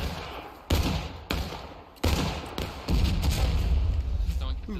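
Musket gunfire from a Civil War battle in the video game War of Rights: several sharp, loud volleys go off over a constant roar of distant shooting and battlefield noise.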